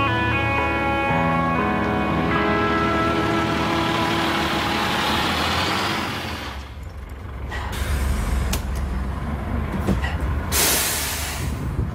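A large vehicle engine idles with a low drone and tonal whine, then it pulls away and fades as hissing and street noise take over.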